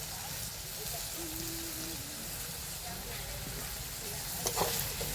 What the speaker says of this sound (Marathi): मीठ टाकल्याने काय कांदा टमाटो छान असं भाजलं जात आहे